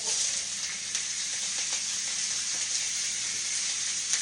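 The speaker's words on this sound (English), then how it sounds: "Now I'm going to put my cabbage and onions in there with the sausage." Cabbage and onions frying with sausage in a pan, a soft steady sizzle and hiss throughout, moderately quiet and close, with no talk.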